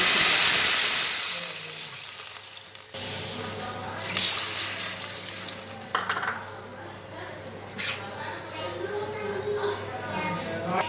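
Water is poured into a hot pan of ginger and curry leaves for rava pongal, a loud hissing sizzle at first that quickly settles into quieter bubbling and stirring noises, with a voice talking over it.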